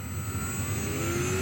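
An electric motor on an Arcus M RC glider winds up from the throttle, a steady whine rising in pitch close by over a low hum, with no talking.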